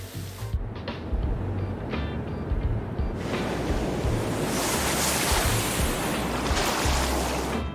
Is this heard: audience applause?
no